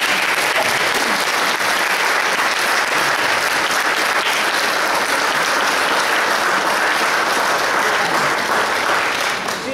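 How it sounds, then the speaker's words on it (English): Big round of applause from an audience at the Seattle Art Museum during a Tibetan sand mandala ceremony, a dense, loud, continuous clatter of many hands that holds steady for about ten seconds before easing slightly at the end. "we want to please give her a big round of applause"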